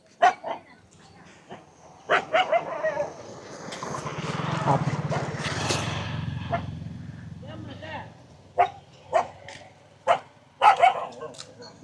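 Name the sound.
dog barking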